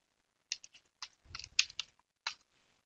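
Keys tapped on a computer keyboard in a terminal, quiet and close, in short irregular bursts of clicks with brief pauses between them.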